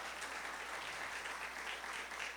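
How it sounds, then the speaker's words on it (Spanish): Applause for a doctor at the closing of an education research congress, a steady, fairly faint wash of clapping that holds evenly for a couple of seconds. "Un aplauso para la doctora Dussel"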